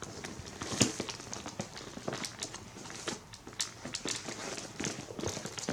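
Wallet, phone and a lip product dropped one after another into a vintage Chanel patent leather tote, giving soft close-up knocks, rustles and clicks over quiet room tone.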